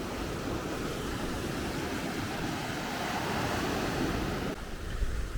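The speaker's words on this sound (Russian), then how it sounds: "Но сегодня мы пришли, и здесь есть волны. Небольшие, но волны." Small sea waves break on a Spanish shore in a steady, rushing wash of surf mixed with wind rumble, with no voices.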